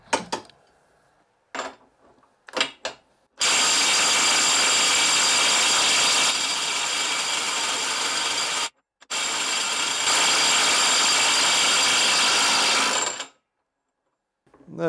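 A Villager VLP 5320 cordless impact driver hammers at its 300 Nm setting, a loud buzzing rattle sustained for several seconds, a brief pause, then another long burst after a few short taps, close up with no talk.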